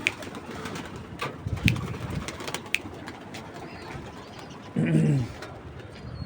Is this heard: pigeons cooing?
yes